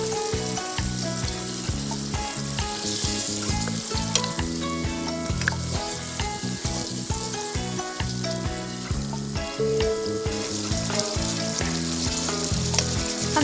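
Mutton liver fries with chili, garam masala, turmeric and salt in a pan, giving a loud, steady, close sizzle with occasional stirring scrapes and no talking.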